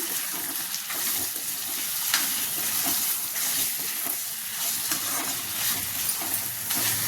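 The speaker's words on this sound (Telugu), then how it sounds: "ఒక ఐదు నిమిషాలు మాడిపోకుండా చికెన్ని ఫ్రై చేసుకున్నాం" Marinated chicken sizzles and fries in a pan with a curry paste, a steady hissing crackle broken by the repeated scrape and clatter of stirring, close and continuous throughout.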